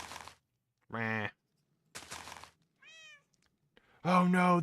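Minecraft cats meow in several separate, clear calls spaced across a few seconds, close and fairly loud, with short silences between them and no talk over them.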